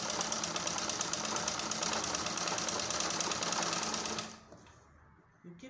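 A manual treadle-pedal sewing machine stitches fabric with a fast, steady mechanical clatter of needle strokes, loud and close, before it slows and stops near the end.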